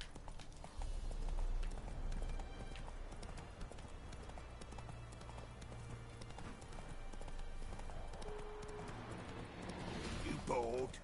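Roach the horse's hooves clip-clopping at a run over ground in The Witcher 3, a steady rhythmic beat through the whole stretch under game music and ambience, with someone talking briefly.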